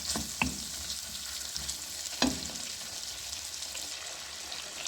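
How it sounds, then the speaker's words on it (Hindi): Masala for chana dal gosht sizzles in a pan with a steady, hissing fry, punctuated by a couple of sharp stirring clinks close up, no voices. "जैसे कि आप देख रहे हैं हमारा मसाला अच्छी तरह भून चुका है"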